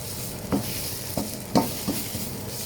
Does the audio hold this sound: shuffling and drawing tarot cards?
no